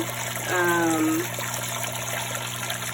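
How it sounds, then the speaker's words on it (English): Dirty water drains out of a Giantex portable washing machine as a steady trickling rush under a constant mechanical hum, with a brief voice-like tone partway through. "So yeah, this water is definitely draining out."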